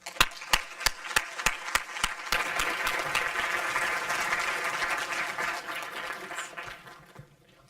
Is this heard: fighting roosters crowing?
no